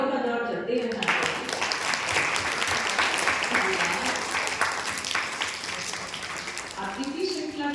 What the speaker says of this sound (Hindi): तालियों का दौर चलते रहना चाहिए।